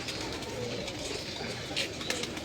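Pigeons on a Lahore rooftop, kept by a pigeon fancier, with faint soft cooing amid a steady background hiss and a few brief chirpy sounds; no talking.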